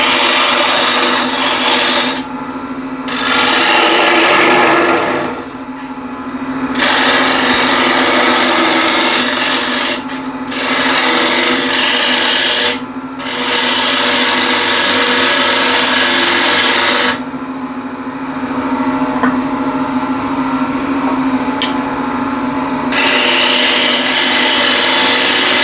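A wood lathe spins a green, rough-turned wooden container at 1400 RPM while a tool cuts, giving a steady, loud scraping whir broken by several short pauses.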